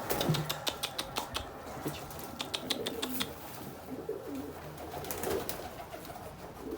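Adana pigeons cooing in a loft, several soft repeated coos close by, mixed with a run of sharp fluttering wing claps and light scuffling.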